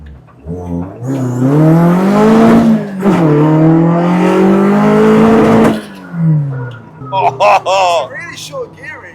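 A Toyota AE86 Corolla engine with a short gear ratio revs high, to nearly 9,000 rpm, while driving. The loud, rising and falling engine howl swells and holds for several seconds, then fades, and a voice speaks briefly at the end.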